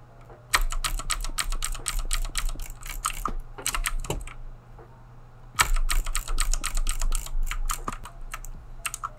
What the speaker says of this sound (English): When I'm drag clicking, I like to drag on the edge, like I said.